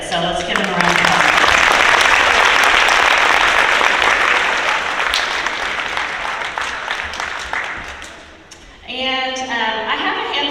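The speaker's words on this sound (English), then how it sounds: "let's give them a round of applause" A school crowd at a senior awards assembly applauds graduating seniors, loud dense clapping that swells then fades out over several seconds, with a voice speaking briefly before and after.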